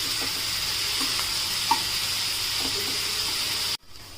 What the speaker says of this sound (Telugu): ఇది బాగా మగ్గాలి, ఫ్రై అయిపోవాలి ఉల్లిపాయలు